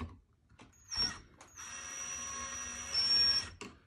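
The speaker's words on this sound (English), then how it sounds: "Go ahead, put other screw, tighten that up." A screw is driven tight into a smoke detector mounting bracket on a wall, a close whirring buzz that runs for about two seconds after a few short clicks and scrapes, with nobody talking.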